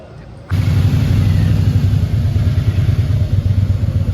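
Royal Enfield 650cc motorcycle on a Sunday morning ride in Karnataka, its engine bursting in loudly after a brief quiet moment and then holding a close, steady, throbbing low rumble.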